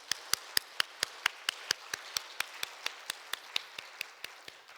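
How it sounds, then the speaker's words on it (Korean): Clapping at a Wednesday evening church service: about twenty sharp, evenly spaced claps in a slow, steady rhythm, fairly quiet and close, with no talk. "오늘 또 귀한 도전의 말씀 주신 우리 권남계 목사님 감사의 박수 한번 하겠습니다."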